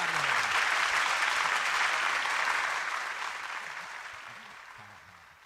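Applause from a congregation at a church worship gathering, a broad wash of many hands clapping that is strong at first and gradually fades away, with faint voices near the end.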